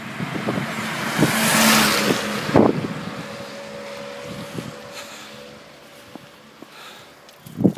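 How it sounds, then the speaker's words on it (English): A car passes along a wet road in the rain, a broad swelling whoosh of tyres and engine that rises and fades over a few seconds, heard from a bicycle amid wind noise on the microphone. "Wait for this car."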